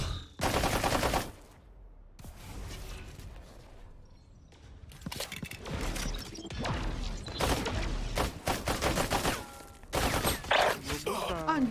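Bursts of gunfire from a Valorant match crack out in several loud, separate volleys with short gaps between them, mixed with game sounds and a voice talking.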